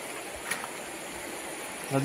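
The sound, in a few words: swollen village river stream flowing after rain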